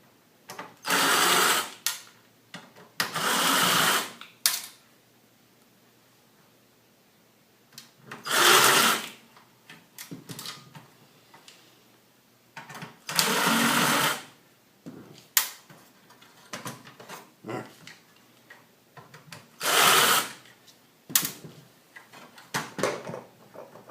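Screws are driven out of a DirecTV DVR being stripped for parts: loud whirring bursts of a power driver, each one to two seconds long, repeat irregularly with quiet gaps and faint clicks of handling between them.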